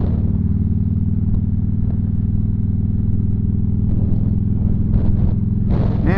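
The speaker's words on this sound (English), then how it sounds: "we're out doing a little ride" A newly bought motorcycle hums steadily while being ridden, its engine droning low and constant with wind and road noise, and brief sounds of passing traffic toward the end.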